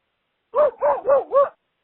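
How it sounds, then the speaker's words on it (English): A dog gives four quick, evenly spaced barks, close and loud, with nothing else around them. "I think he's barking because I think something's out there"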